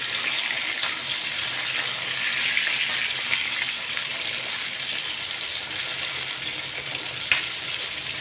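Bitter gourd pieces sizzle and fry steadily in oil in a pan while being stirred, a continuous close hiss with occasional soft clicks of the spoon, no voices.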